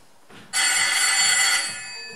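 A telephone bell rings loudly nearby in a single sustained burst, bright and metallic, after a faint lead-in.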